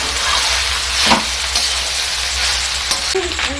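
Spiced leftover rice with turmeric and chili powder is stirred in a frying pan, a continuous close sizzle with scraping strokes of the spatula and no talking.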